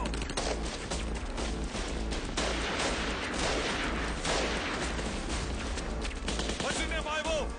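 Gunfire in a Hollywood action movie dubbed in Hindi: dense, continuous bursts of shots fill the whole stretch, loud and sustained like a fusillade, with shouted voices mixed in under the shooting.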